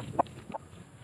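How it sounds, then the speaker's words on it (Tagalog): A rooster gives two short clucks a moment apart, close by, with a faint low rumble underneath. "Yung manok na San Pedro."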